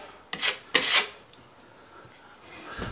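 A filler knife skimming Presto filler over nail holes in a wooden staircase, two quick scraping passes in a row, close and crisp, followed by near silence.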